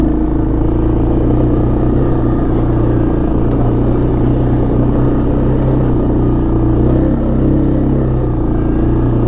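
A 1996 Arctic Cat 454 Bearcat 4x4 ATV engine running steadily in first gear, high range, crawling down a hill; a loud, close, continuous drone with little change in pitch.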